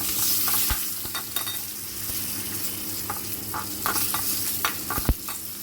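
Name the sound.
tempering with curry leaves sizzling in oil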